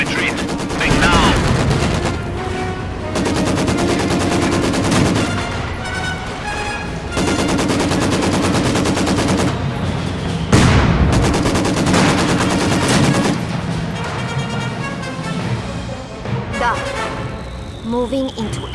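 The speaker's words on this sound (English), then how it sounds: "Enemy infantry firing on me." Infantry gunfire in Company of Heroes 2: loud, sustained bursts of rifle and machine-gun fire with sharp volleys and heavy impacts, over dense battle noise and game voices.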